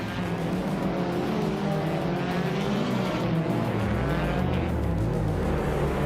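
Racing cars, including a Mini Cooper, roar steadily through a race, with engine drones rising and falling as vehicles chase and pass one another, loud and continuous with no talking.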